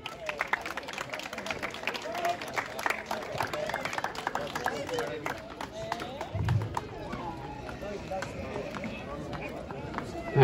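Spectators at a seaside village festival horse beauty contest break into a steady ripple of clapping, sustained for several seconds, with voices and movement mixed in.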